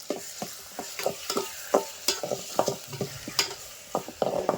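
Onions with a salted green chilli paste fry in a pan, a steady sizzle broken by sharp, irregular scrapes and knocks of a spoon stirring the mixture, close by with no talk.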